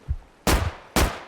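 Video game gunfire cracks out as two loud, sharp shots about half a second apart, each following a softer thud.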